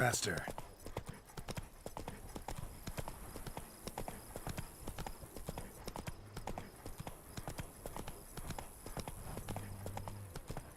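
Roach the horse in The Witcher 3 trots with a steady, even clip-clop of hooves on the ground, close and continuous, with a voice talking over the hoofbeats.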